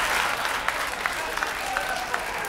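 Audience clapping for the wait and bar staff at a stand-up comedy show at McCurdy's club, a steady wash of crowd applause with scattered sharper claps throughout.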